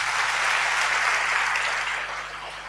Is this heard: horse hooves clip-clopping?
no